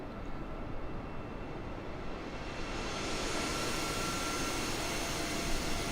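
A jet airliner's engines roar steadily and close by beside a hovering drone in Microsoft Flight Simulator 2020, a continuous broadband rush that grows slightly louder toward the end.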